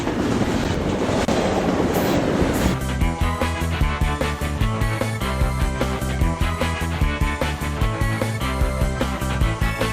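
A train rumbles past at close range beside a Texas campsite behind a store, its wheels beating a steady clickety-clack rhythm over the rails, loud and continuous with a rushing roar at the start.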